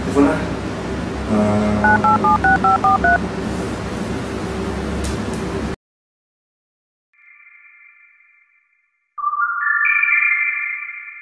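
Telephone keypad dialing tones, a quick run of beeping DTMF presses heard under talk and music, followed after a pause by a separate ringing or line tone alone.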